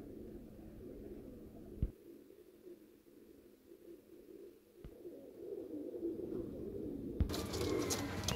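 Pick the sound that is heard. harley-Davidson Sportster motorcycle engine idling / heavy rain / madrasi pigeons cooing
madrasi pigeons cooing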